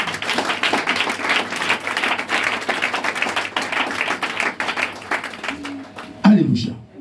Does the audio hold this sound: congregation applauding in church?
yes